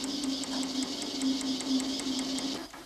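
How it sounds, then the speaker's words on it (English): A Kraftformer sheet metal forming machine with a beak-shaped tool stretches an aluminium angle section into a curve, giving a steady, fast mechanical hammering hum with a rapid repetitive pulse, close and continuous, with no voices. "Using the same beak-shaped tool, this aluminium angle section is stretched into a curved shape."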